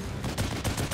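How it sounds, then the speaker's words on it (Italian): Loud bursts of rapid machine gun fire in the video game The Evil Within, several short volleys in a row, up close and sharp. "Quando ho una mitragliatrice in mano,"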